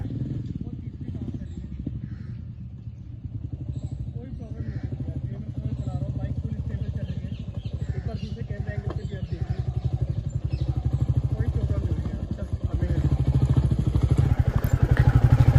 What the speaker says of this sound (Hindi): ग्रेवल्स में मैं चला रहा हूँ, बाइक फुल स्टेबल चल रही है।